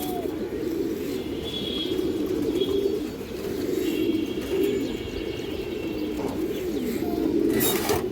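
Pigeons of a matched show pair coo steadily in low, rolling phrases that repeat across the whole stretch, with faint chirps and a brief wing flutter in the background.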